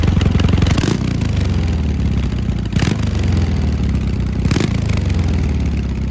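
A Walzwerk cafe racer motorcycle engine heard through exhausts fitted with removable dB killers, rumbling loudly and steadily at idle with three sharp throttle blips spaced a couple of seconds apart.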